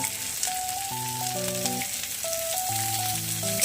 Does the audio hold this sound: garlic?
yes